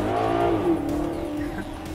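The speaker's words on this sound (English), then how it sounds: "you'll probably never listen to the radio because the exhaust sounds so good" A 2013 Maserati GranTurismo Sport's exhaust blares up close in a short, loud rev that swells and then slides down in pitch.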